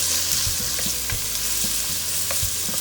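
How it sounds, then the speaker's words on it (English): Onions fry in a pan with a steady, dense sizzle throughout, close and loud, with occasional soft stirring scrapes and no talking. "we want to cook them until the onions are translucent and"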